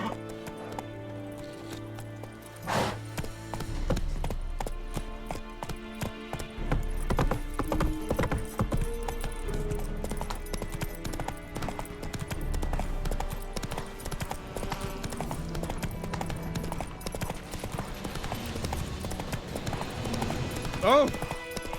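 A horse galloping in the video game The Witcher 3: Wild Hunt, with a steady rapid clip-clop of hooves, occasional whinnies, and a voice speaking over it.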